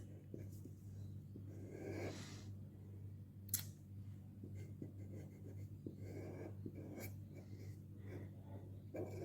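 A pen sketches a face on paper, with soft intermittent scratching strokes and small clicks, quiet and close, spread irregularly across the stretch with faint breathing in the background.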